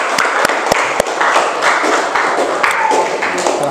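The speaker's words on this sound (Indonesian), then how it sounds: "Kita beri tepuk tangan untuk Pangeran Diponegoro kelompoknya." A short burst of applause from a group, scattered claps ringing out with a murmur of voices underneath.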